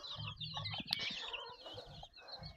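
Several young chickens cluck and chatter close by in a village, a busy, overlapping flurry of short calls.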